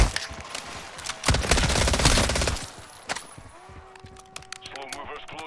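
Rapid automatic gunfire from an automated turret in Call of Duty MW3 Zombies, loud sustained bursts for a few seconds that trail into scattered shots and game effects, with a voice talking over it.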